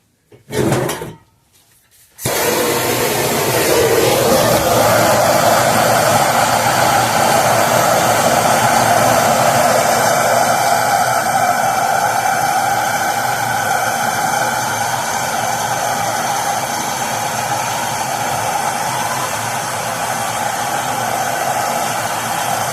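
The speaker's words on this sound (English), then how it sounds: "Before I do anything, I'm going to heat these dowels up." Dowels on a cast aluminium Ford Powershift gearbox casing are heated, giving a steady, loud roaring hiss that starts after a brief bump and continues unbroken to the end, with no talking.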